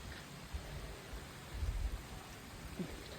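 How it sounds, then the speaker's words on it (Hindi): Heavy monsoon rain falls steadily outdoors as a dense, even hiss, with low rumbling swells underneath that suggest distant thunder. "लग रहा है कि आज बारिश रुकने वाली तो बिल्कुल भी नहीं है"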